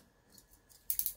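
Scissors cut along the folded edge of paper for a Christmas stocking junk journal, a few quick close snips near the end after a quiet start.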